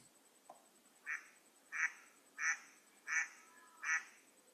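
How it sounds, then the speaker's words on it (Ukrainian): A drake and a duck quack in five evenly spaced, short nasal calls, roughly one every seventh of a second apart, clear and isolated against a quiet background. "Давайте послухаємо, як подає голос качур з качкою"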